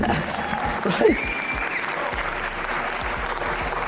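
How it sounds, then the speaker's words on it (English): Audience applause fills the room in a steady, dense wash of clapping from a crowd at a motivational talk, holding at an even level throughout with a brief louder swell near the start. "who clapped for that?"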